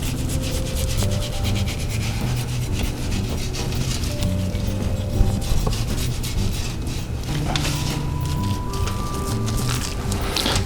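A knife trims a hard pocket of fat from a brisket, giving a steady close scraping and rubbing with soft rasping strokes that continue throughout, with no speech over it.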